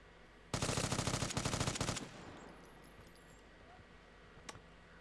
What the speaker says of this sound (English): Oh, I'm hearing gunshots.